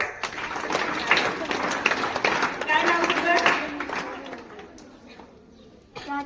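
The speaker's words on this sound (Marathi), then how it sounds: "ह्या दिदीसाठी टाळ्या वाजवा" Schoolchildren clapping for a girl at a school talk, a burst of quick close applause that fades toward the end, with voices audible underneath.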